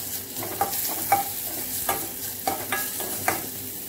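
Finely chopped onion and coriander sautéing in hot oil, a steady soft sizzle broken by several distinct scrapes and clacks of a spoon stirring the pan, close up.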